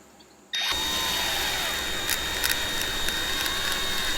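A power tool suddenly whirs up to ream out a fishing rod fighting-butt piece, a loud steady drilling whine with a few ratcheting clicks, after a quiet start.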